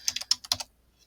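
Short burst of typing on a computer keyboard, about eight crisp, close key clicks in quick succession, then silence.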